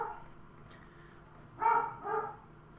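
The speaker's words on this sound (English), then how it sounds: "Sorry about the dogs in the background." Dogs bark twice in the background, two short mid-loud bursts close together after a stretch of quiet room noise.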